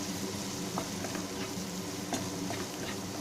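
Boiled egg pieces frying with onions in a pan, stirred steadily: a continuous close sizzle under soft scraping stir strokes, with a few brief clicks of the utensil against the pan and no talking.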